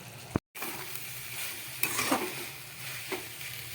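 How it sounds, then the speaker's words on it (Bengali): A cooked fish head is stirred into cabbage frying in a pan, with a low steady sizzle and spatula scrapes. A brief sharp knock is followed by a moment of silence, then the frying continues close and clear with no talking. "এবার এই রান্না করা মাথাটা আমি বাঁধাকপির সঙ্গে মিশিয়ে দেবো"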